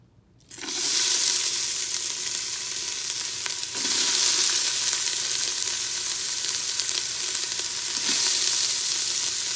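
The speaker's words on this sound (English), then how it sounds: "I have put it on the saute mode, and I have added some olive oil" Food dropped into hot olive oil in an Instant Pot on sauté mode, a loud sizzle that bursts in abruptly and keeps crackling steadily, flaring again as more goes in or is stirred.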